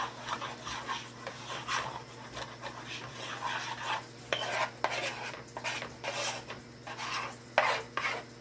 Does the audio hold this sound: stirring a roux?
yes